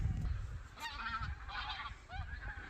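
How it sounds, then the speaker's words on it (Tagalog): Flock of geese honking repeatedly as they fly over on a snowy evening outdoors, several overlapping calls of moderate loudness above low rumbling background noise. "Mga ibon lumilipad."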